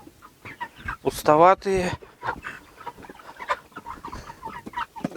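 Ross 308 broiler chickens about 50 days old clucking in a shed around feeders, a loud close squawk standing out among softer clucks while someone talks over them.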